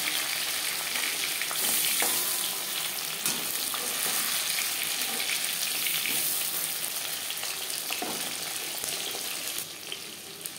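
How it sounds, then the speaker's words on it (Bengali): Fish coated with masoor dal fries in a pan over a high-to-medium gas flame, giving a continuous close sizzle and crackle with occasional stirring clinks that ease slightly toward the end. "মাছ ভাজবো হাই টু মিডিয়াম ফ্লেমে।"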